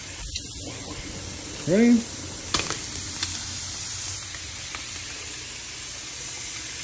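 Sauce poured into a hot pan of stir-fried shrimp gives a brief burst of sizzling and steam hiss, followed by lighter crackle and a few clinks, with a short spoken question just before.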